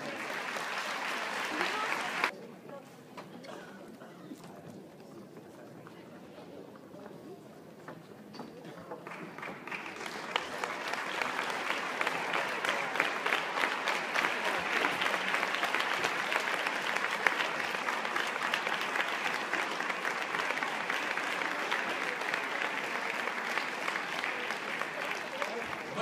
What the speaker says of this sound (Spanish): Pido un aplauso para todos ustedes